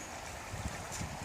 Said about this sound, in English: what you're seeing in front of me is my flower garden getting well watered